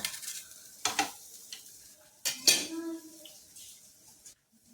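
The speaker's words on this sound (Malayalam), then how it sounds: "അടുത്തത് തേങ്ങയാണ് വറക്കാനിട്ടേക്കണേ കൂട്ടത്തിലോട്ട് രണ്ട് ഉള്ളി ഇടുന്നുണ്ട്" Grated coconut and shallots roast in a pan, giving soft sizzling with a few sharp scrapes and clatters of a spoon against the pan, close by and moderately quiet, with brief pauses between stirs.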